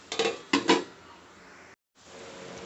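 A pan of beetroot curry with chilli powder is stirred, and two loud bursts of a spoon clattering against the metal pan come first. A steady low hiss follows, then a short silence.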